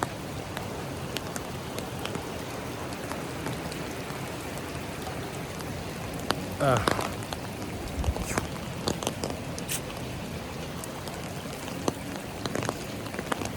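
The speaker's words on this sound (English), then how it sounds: "Oh la la, so rainy." Constant rain beside the ocean on Vancouver Island, an even wash of falling drops with occasional louder nearby drips and splashes standing out, heard alone without voices.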